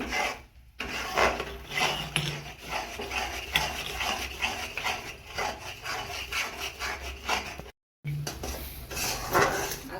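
A spoon stirring jaggery syrup in a pan for sesame chikki, steady scraping and rubbing strokes against the metal in a continuous rhythm, close and moderately loud, with two brief dropouts.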